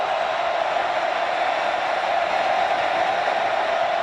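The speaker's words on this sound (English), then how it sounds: "Crowd roaring." A college football stadium crowd roars during Virginia Tech versus Nebraska, a dense, steady wash of massed voices that holds loud and unbroken throughout.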